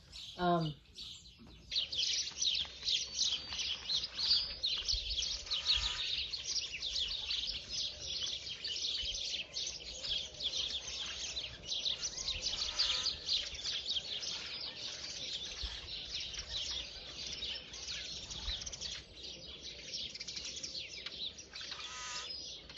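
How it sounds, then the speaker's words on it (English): Spring birds busy building nests chirp and tweet continuously nearby, a dense chorus of overlapping calls and trills, with a faint soft sound near the start. "I don't know if you can hear them, they are just making so much noise"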